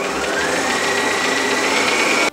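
An electric mixer beating red velvet cake batter at medium speed, a steady close whirring motor hum that holds even for a couple of seconds before cutting off.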